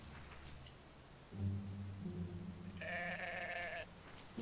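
A pink sheep in the video game Garden Paws bleats in two short tonal calls, the second higher and brighter, over a soft steady game ambience of rain-like patter.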